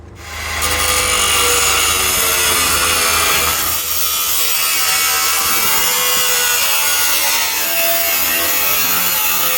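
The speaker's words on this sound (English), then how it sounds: "We've got to use a generator for this big grinder, so it's a bit noisy." A large angle grinder running off a generator cuts through metal, making a loud, continuous, harsh grinding roar that stays close and steady, with a low engine hum beneath it.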